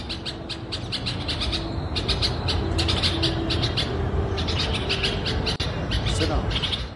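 Small birds chirp near a window, with quick, repeated high chirps in bunches over steady, loud background noise. They are fairly close and continue throughout.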